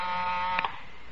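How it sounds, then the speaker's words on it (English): A desk buzzer sounding in a vintage radio drama: a harsh, loud, steady electric buzz that holds for over half a second, then cuts off abruptly. "It was time for the buzzer on my desk to sound out the call"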